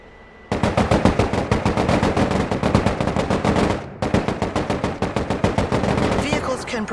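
Assault-weapon fire in the Broken Arrow war video game, with dense rapid automatic bursts, loud and close, running almost continuously after a short quiet start and pausing briefly midway.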